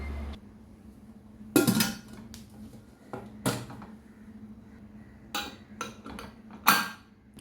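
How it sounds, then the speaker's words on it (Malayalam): A pressure cooker is closed after spiced ingredients are mixed inside: several sharp metallic clanks and knocks come in separate bursts against a quiet room hum. "കുക്കർ ക്ലോസ് ചെയ്യാം"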